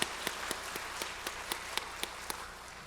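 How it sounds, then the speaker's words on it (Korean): Church congregation clapping during a Korean worship service, a steady wash of many hands with sharper claps punctuating it at regular intervals, moderately loud and with no talking over it. "오늘 이 자리에 계신 우리 하나님께 영광의 박수 드리겠습니다."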